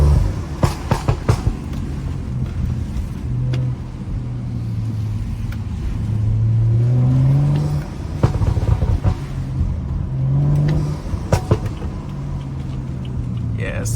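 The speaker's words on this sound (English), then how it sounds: "make it pop some more so you guys can actually hear the pops" A tuned BMW drives with a low exhaust burble that rises and falls through revs, punctuated by sharp clusters of pops and bangs at the start and again near the end, close and loud, with some talk.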